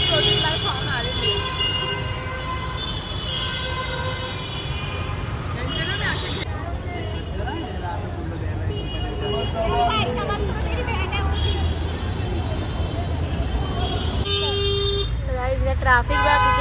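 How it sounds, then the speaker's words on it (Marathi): Busy street traffic in Maharashtra heard from a rickshaw, with repeated car and vehicle horns honking over a constant engine rumble and surrounding crowd chatter, people talking throughout. "ट्रॅफिक बघा किती लागले बापरे."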